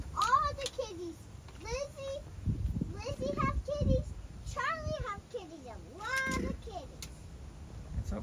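Cats meow repeatedly on a bison ranch, several rising and falling cries spread across the clip, with a voice and soft background noise mixed in.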